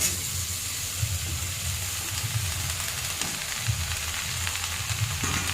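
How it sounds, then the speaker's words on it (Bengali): Pumpkin greens sizzle in a pan of frying shrimp, a steady close hiss of hot oil with soft, regular thumps of stirring throughout and no voices. "চিংড়ি মাছটা ভাজা ভাজা হয়ে গেছে। তা আমি এর মধ্যে দিয়ে দিচ্ছি শাকগুলো"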